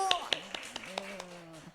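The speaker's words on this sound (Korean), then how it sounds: "박수" Small group clapping along at a church gathering, a handful of sharp claps in an irregular rhythm over roughly two seconds while a voice talks underneath.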